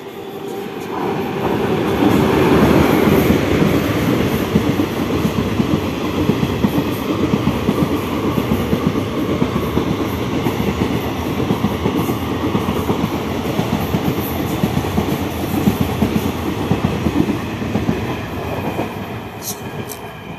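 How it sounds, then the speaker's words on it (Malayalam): A train passes close by for about twenty seconds as a loud, continuous rolling rumble, with rail clatter and wheel noise holding steady before easing slightly at the end. "ഗൈസ് ട്രെയിൻ വരുന്നുണ്ട്."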